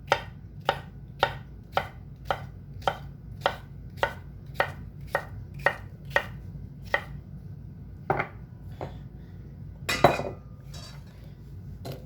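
A sharp knife chops Brussels sprouts into quarters on a cutting board, with a steady run of about a dozen crisp, evenly spaced knocks that turn slower and more irregular toward the end.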